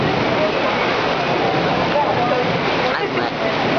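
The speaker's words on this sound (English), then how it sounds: "now it's like pouring rain" Pouring rain outdoors at Disney-MGM Studios, a dense continuous hiss of heavy downpour with a voice briefly audible.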